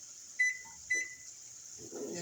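An oven's timer being set for a cooking session, with two short electronic beeps close by about half a second apart, followed by a soft rustle over steady background hum.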